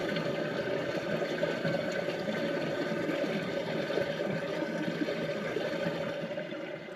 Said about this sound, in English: Listen closely, you can hear the water move.